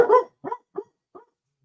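A pet dog barks indoors, four short close barks with pauses between them that trail off and grow softer, with no other sound around them.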